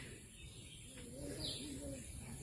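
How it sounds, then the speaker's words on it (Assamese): Soft, repeated calls come from a mother bird over floodwater, crying for a chick that cannot fly. The calls are faint over a hissing outdoor background. "সেইটো চাওক, মাকে চিঞৰি আছে পোৱালিটোৰ কাৰণে"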